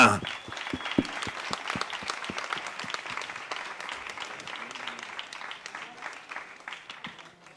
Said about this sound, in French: Je vous demande de lui faire une ovation.